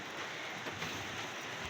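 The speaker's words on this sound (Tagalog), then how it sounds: "hindi kaya po yung lakas ng ulan" Heavy rain pours down as a dense, even hiss of drops on surfaces, filling the brief stretch without pause and with no talking.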